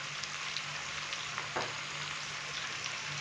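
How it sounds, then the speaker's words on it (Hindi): Chicken frying with ginger garlic paste in a karahi: a steady, continuous sizzle with faint stirring scrapes, close and alone. "अभी हम अदरक और लहसुन के पेस्ट के साथ चिकन को भून लेंगे मज़ीद 5 मिनट के लिए"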